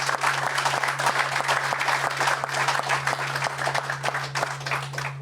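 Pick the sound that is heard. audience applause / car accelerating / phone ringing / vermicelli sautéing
audience applause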